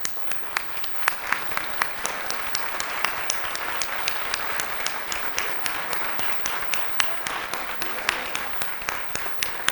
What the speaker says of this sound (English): Could I ask everyone who's raised a puppy to stand now and applaud the new teams about to embark on